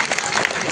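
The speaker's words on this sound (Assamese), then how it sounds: "হাত চাপৰি আকৌ এবাৰ।" Audience clapping at an Assamese lecture on modern education, a short dense burst of many hands filling the room, steady and fairly loud.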